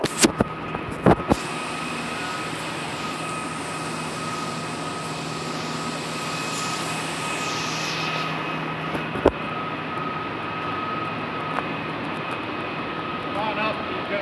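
Compressed air machinery runs in a mine hoist room, a loud steady whine and roar with a high tonal hum, which sinks lower near the end, while people talk over it.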